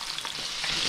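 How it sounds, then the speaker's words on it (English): Bass fillets fry in a pan with a close, steady hiss and crackle of hot oil, a continuous sizzle with no voices over it. "Right, that's frying away."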